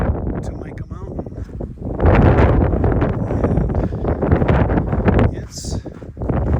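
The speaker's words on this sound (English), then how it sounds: "it's still kind of windy in here" Strong wind on the Arizona Trail buffets the microphone in loud, gusty roaring bursts, rising sharply midway and staying rough throughout.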